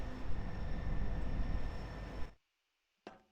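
A train add-on rolls along tracks in the video game Garry's Mod, a steady rumbling engine drone with faint tonal whine that cuts off abruptly, followed by a brief clunk.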